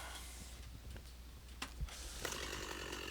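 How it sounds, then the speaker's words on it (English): A chainsaw cuts steadily through wood, its loud, continuous motor rasp running the whole time with a few sharper knocks partway through and no voices. "So I figured the chainsaw would be the best way."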